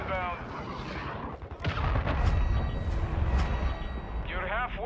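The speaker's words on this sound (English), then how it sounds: "Friendly cruise missile inbound." Cruise missile strike in Call of Duty Modern Warfare 2 multiplayer, a heavy rumbling blast rolling in over ongoing gunfire and battle noise, loud and sustained for several seconds, with radio voice chatter over it.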